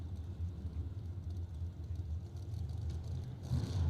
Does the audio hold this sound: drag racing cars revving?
yes